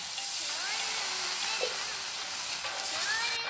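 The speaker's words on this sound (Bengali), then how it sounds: "এখন আমি এর মধ্যে জল দিয়ে দিচ্ছি।" Water hits hot frying spices in a pan for a Bengali brinjal and Ilish fish curry, a steady, soft sizzle and hiss throughout with faint stirring clinks, no talking.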